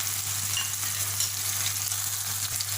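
Tomatoes, ginger garlic paste and sliced green chilies sauté in a pan for a biryani, giving a steady, close, bubbling sizzle with no talking.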